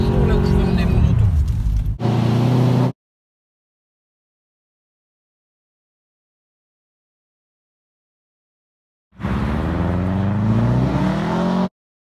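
A car on Continental tyres drives on a wintry Canadian test track with the driver working the throttle. Two close bursts of engine and tyre noise rise in pitch, a voice talks over them, and there is a long silence between.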